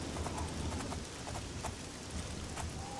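Horse hooves in the video game The Elder Scrolls IV: Oblivion, a quiet, rhythmic clip-clop of steady hoofbeats running throughout over a soft background, with no talk.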